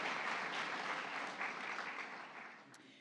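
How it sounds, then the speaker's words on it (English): Audience applause at the Tribal Nations Summit, a steady wash of many hands clapping heard from a distance, fairly faint and slowly tapering off. "Yes, you can applaud."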